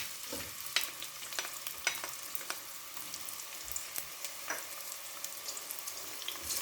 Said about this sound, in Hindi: ये मैं इसमें 2 मीडियम प्याज फ्राई करूँगी पहले